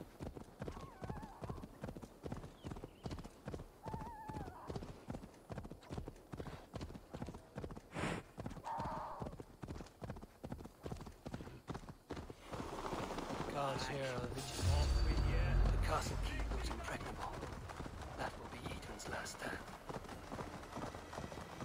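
A horse in the video game Assassin's Creed Valhalla gallops with fast, rhythmic hoofbeats for a long stretch, joined midway by a louder rumbling swell and occasional brief voice sounds.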